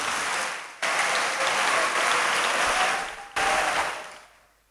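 Audience applause at an Islamic boarding school's cabinet accountability report event, steady dense clapping from a crowd that dips briefly, surges again, then fades out.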